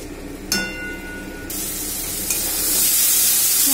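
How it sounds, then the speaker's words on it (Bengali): Masala for a duck egg curry is stirred in a pan with a splash of water, bringing a sharp clink followed by a hissing sizzle that swells and grows louder and steadier. "জলটা একটু ভালো করে নাড়াচাড়া করব।"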